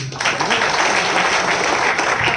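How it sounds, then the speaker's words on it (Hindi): An audience at a wellness company seminar bursts into steady, loud clapping, a dense continuous applause filling the whole moment. "चलो ताली होना चाहिए।"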